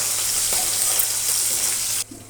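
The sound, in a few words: tempering spices sizzling in hot oil in a pan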